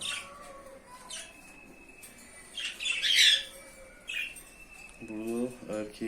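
Caged budgerigars, one of them a quarrelsome female, give sharp squawks and chirps in a burst of calls, with a short human voice near the end.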